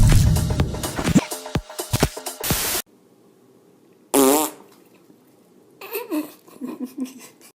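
Loud, close fart noises aimed at startled animals: a quick string of bursts, a sudden silence, then a long sputtering fart followed by giggling and babbling laughter.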